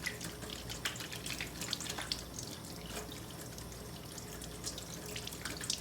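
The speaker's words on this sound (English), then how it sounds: "now I'm just gonna wash my hands" Tap water runs steadily into a kitchen sink as hands are washed, a continuous soft splashing stream with small drips and spatters, close and moderately quiet, with no talking.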